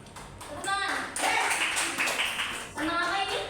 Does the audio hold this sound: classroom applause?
yes